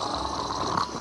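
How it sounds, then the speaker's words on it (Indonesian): A sleeping man in a film snores loudly, a rough, breathy rasp that fills the whole moment, close and continuous, with no talking over it. "Vero pun berusaha tidur di samping Pita yang ngorok dengan suara yang sangat keras."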